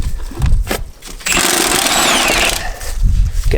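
An impact gun rattles loudly for over a second on the front strut bolts of a Peugeot 807, Citroen C8, Fiat Expert or Dispatch, close up, framed by clanks and workshop handling noise.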